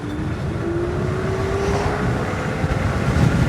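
Super72 electric bike riding at about 50, a steady whine rising slowly in pitch over rushing wind noise, continuous and fairly close with no talk.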